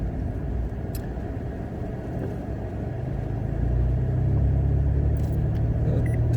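A 2024 Mitsubishi Mirage climbs a steep hill in Palos Verdes, its small engine giving a steady droning hum with road rumble that swells louder partway through as it labors harder, heard from inside the cabin without talk.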